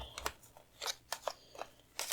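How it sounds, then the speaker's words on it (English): Lenormand cards being shuffled by hand, giving a run of short, crisp papery riffles and snaps in uneven bursts, fairly faint and close, with no talk. "I'm going to just shuffle the Lenormand cards for a second."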